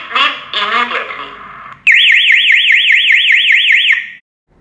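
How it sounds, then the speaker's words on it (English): A Homelux SL905 alarm plays a short recorded voice message, then switches to a loud warbling siren that rises and falls rapidly in a steady loop before stopping. "when siren triggered, play the recording first, then siren sound in a loop"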